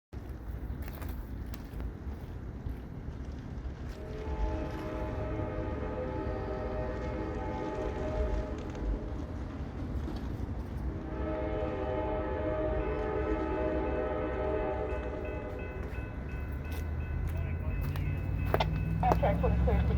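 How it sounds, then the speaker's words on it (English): Amtrak 20, a passenger train on Norfolk Southern track near a railroad crossing diamond, sounds long, sustained horn blasts over a steady rumble of the approaching train, growing louder toward the end. "Amtrak 20 would arrive in Hattiesburg on Norfolk Southern's NO&M district."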